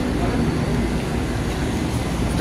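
A commuter train at Jamaica station on Long Island, bound for New York's Penn Station, fills the air with a loud, steady rumbling roar that holds evenly from start to finish.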